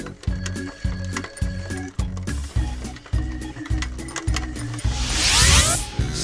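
A bicycle ticks out rhythmic ratcheting clicks in even bursts, followed by a rising whoosh near the end.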